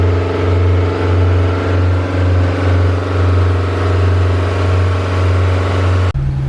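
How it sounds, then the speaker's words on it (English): A classic car with a 1-litre engine idles while warming up, a loud, close, steady low hum with a faint rhythmic pulse that holds evenly before cutting off abruptly near the end. "So we're gonna let it warm up and then do some revs."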